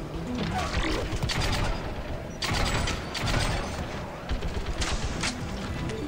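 Gunfire and mechanical weapon noise in Mass Effect 3 during a fight with Geth, dense and continuous with loud bursts and a brief dip midway, with a voice speaking over parts of it.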